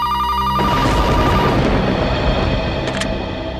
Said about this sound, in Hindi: दिन में तो कभी फोन की घंटी बजती नहीं।